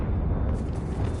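A deep, rumbling fiery blast from the Confringo spell in Hogwarts Legacy, loud and sustained for about a second with a heavy low roar and no talking.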